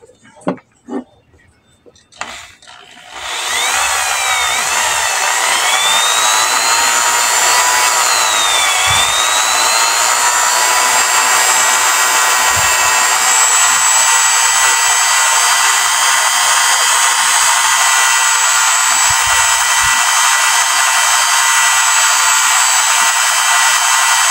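After a few soft knocks, an electric drill starts up and whirs steadily at a slow, constant pitch while lapping valves in a Yamaha Sniper 150 cylinder head, close and loud, running continuously.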